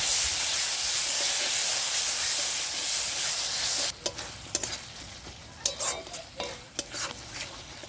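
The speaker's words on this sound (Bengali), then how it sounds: "এবারে আমি জিরা আর ধনে বাটাটা দিয়ে দিচ্ছি। এটা দিয়ে আমি ভালো করে কষিয়ে নেব।" Cumin and coriander paste fries with melted tomato in oil for a fish curry, a dense close sizzle that gives way to scraping stirs and spatula knocks, with no voices.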